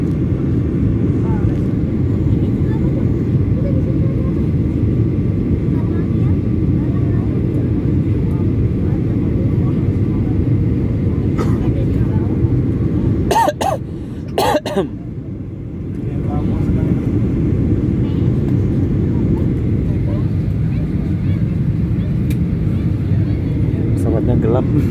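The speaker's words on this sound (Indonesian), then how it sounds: "Inilah kota Lombok dari atas ya, dari atas pesawat." Constant loud engine drone fills the cabin of a Lion Air airplane in flight over Lombok, a steady low roar with brief clicks and a short dip midway.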